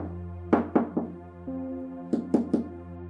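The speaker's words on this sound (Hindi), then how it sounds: "अचानक दरवाजे पर ठक ठक हुई" Knocking on a door, sharp wooden raps in two bursts of about three knocks each, separated by a pause, heard close over a steady low hum.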